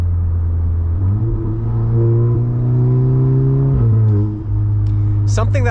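Inside a car running an IE transmission control unit tune, a steady engine hum climbs in pitch, drops sharply at a gear change, then climbs again, with a brief dip near the end and a faint voice at the close.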